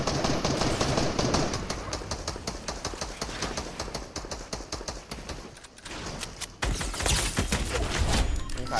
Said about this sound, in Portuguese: Tô escutando tiro.